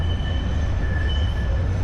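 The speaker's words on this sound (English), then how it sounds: "There's a tram coming towards us." Tram passing close by on a city street in Sofia, a loud steady low rumble of wheels on rails with a faint high squeal running through it, no voices.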